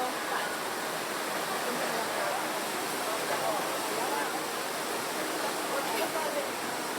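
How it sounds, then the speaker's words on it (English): Steady broadband rushing of water fills the whole stretch on the river rapids raft ride at Disney's Animal Kingdom, a continuous loud roar and splash with no pauses and no clear talk. "I confirm that we're riding the rapids."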